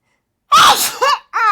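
A sharp, loud sneeze bursts out close by, followed by a short breathy gasp and a brief voiced sound, with silence before it.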